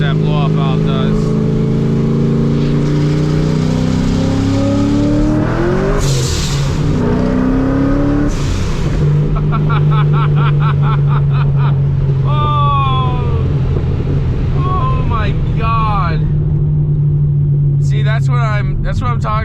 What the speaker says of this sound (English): Hear how much that blow-off valve does.